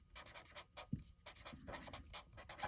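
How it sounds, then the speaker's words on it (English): Pen or pencil strokes scratch on paper in quick, close, quiet bursts, writing out a fraction in a math lesson. "So we're going to write the top"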